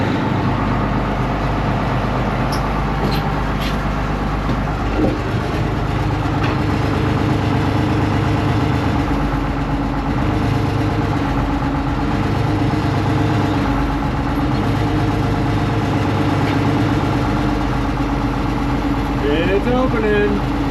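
IH tractor engine idling steadily with a low, constant rumble throughout, a few faint knocks and clanks over it and a brief high squeak near the end.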